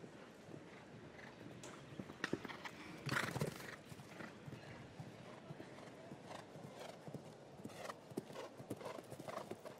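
Horse hooves clip-clop at a trot at a show-jumping derby in La Baule, through wind and rain noise outdoors, with a horse briefly whinnying and faint voices in the background.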